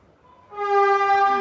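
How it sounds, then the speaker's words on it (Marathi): A train horn sounds loud and steady from about halfway through, a sustained rich multi-tone blast rising out of quieter background noise. "व्हिडिओ शूट करायला घेतला की ट्रेन येतीच"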